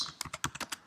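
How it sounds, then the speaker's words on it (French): Keys on a computer keyboard are typed at a steady pace, about eight soft, close clicks in under a second, with no talking. "Ça, j'utilise mon clavier."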